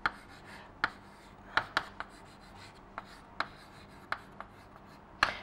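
Chalk or marker strokes writing out shock wave equations on a board, sharp scratchy taps in an irregular rhythm, fairly close, with no talking.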